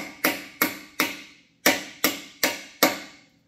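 Sharp metal hammer taps setting an old axle bushing into place on a Pistenbully 400 snow groomer, seven crisp ringing strikes in two evenly spaced groups, close and loud with no talk.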